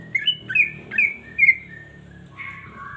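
A green leafbird (cucak ijo) gives a string of four sharp, close whistled chirps in quick succession, then a longer, lower warbling note after a brief pause.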